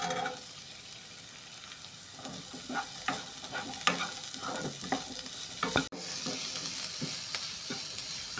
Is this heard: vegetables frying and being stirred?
yes